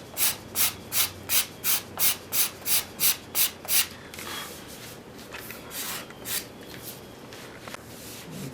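Wooden chair seat being scraped and then sanded by hand: about ten rhythmic, evenly spaced scraping strokes up close, followed by softer, irregular sanding rubs.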